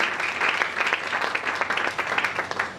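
A church congregation claps loudly and steadily for the Lord during a worship service, a dense, continuous wash of many hands lasting throughout without a break.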